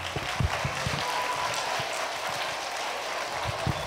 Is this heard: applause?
yes